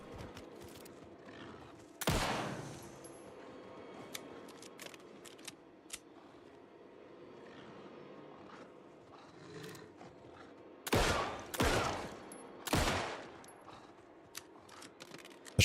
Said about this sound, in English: The shotgun is so much more powerful.